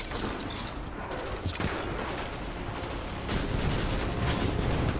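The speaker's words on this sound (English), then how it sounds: "Even now, these Fallen are throwing little grenades." A dense, continuous barrage of Destiny combat fills the space as Fallen enemies lob grenades: rumbling explosions, crackling gunfire and mechanical clatter overlap in a loud, chaotic wash with no clear breaks.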